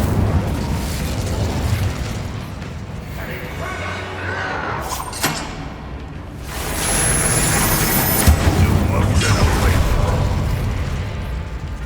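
Fire and blast spells go off in Hogwarts Legacy, a run of loud booming bursts and crackling explosions over steady game noise, with speech in between.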